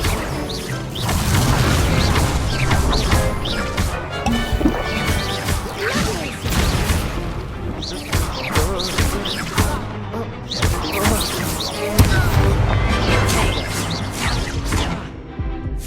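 Hogwarts Legacy combat with the Confringo fire spell: repeated loud crashing blasts and whooshes over dense game music and effects, continuous and busy throughout with no quiet gaps.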